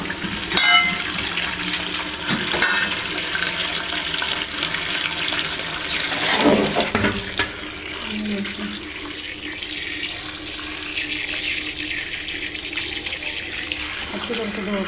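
Raw mutton being washed by hand under a running kitchen tap, with a steady splashing water stream that continues throughout, close and fairly loud, with a brief louder gush midway; someone talks over it.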